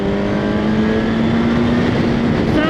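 A 2016 BMW S1000RR motorcycle exhaust roars loud and close in one sustained high-revving drone, its pitch climbing slightly and holding steady without any talk.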